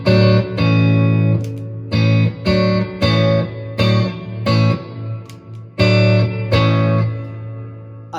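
Electric guitar with single-coil pickups played through an overdrive pedal, loud chords struck and sustained in a rhythmic pattern with a thick, saturated tone and a low hum underneath.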